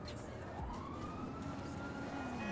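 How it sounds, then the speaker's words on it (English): A police siren in the video game GTA 5, during a roleplay session, wailing at moderate distance with a rising and falling tone under a steady background. "I'm hearing siren though"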